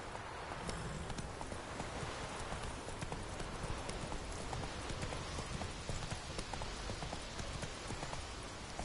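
Video-game horse hooves clip-clop in a steady quick rhythm over a continuous rainy hiss, even and unbroken throughout.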